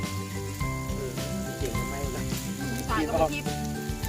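Pork sizzles on a Thai moo kratha tabletop grill at an evening outdoor meal, giving a soft hiss and crackle. Voices talk over it.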